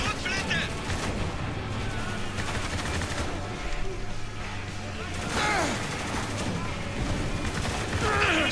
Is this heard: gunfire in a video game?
yes